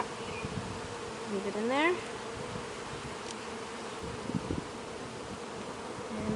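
Honey bees buzz steadily around an open hive being worked for capped honey frames, a dense close drone, with one bee's rising whine passing near and a brief spoken remark.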